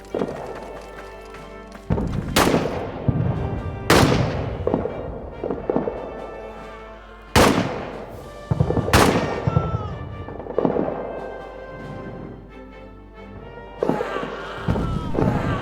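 Sharp gunshots crack out in a scattered volley during trench warfare in All Quiet in the Trenches, several loud bursts spaced a few seconds apart with ringing tails over a steady rumbling battlefield backdrop.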